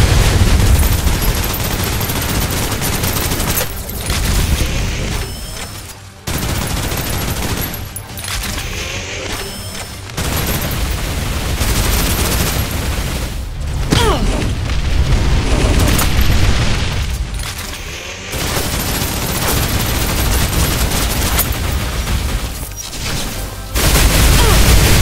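Sustained, loud gunfire and booming bursts in the video game Snowbreak: Containment Zone, continuous volleys with brief lulls across the whole span, no talk.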